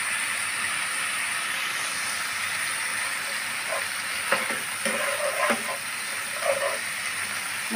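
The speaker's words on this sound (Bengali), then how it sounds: "জলটা দিয়ে মশলাটা আমি ভালোভাবে কষিয়ে নিব।" Spice paste, with a little water added, is stirred and fried in a pan as Bengali-style masala is cooked down before adding pointed gourd. A steady sizzle runs throughout, with occasional spoon scrapes and clinks near the end.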